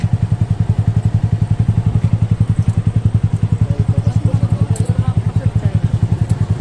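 A motorcycle tricycle engine in Catarman, Northern Samar, runs with a fast, steady, thumping putter close by, loud and continuous with no letup.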